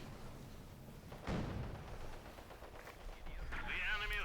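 Machine gun fire in Company of Heroes 2, a short burst of gunfire with a sharp thud partway through and more firing near the end, faint under battlefield ambience.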